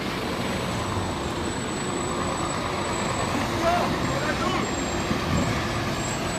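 Steady traffic on an expressway near Vannes during a truckers' strike, a continuous broadband roar of passing trucks and cars heard from nearby, with a faint high whine over the rumble.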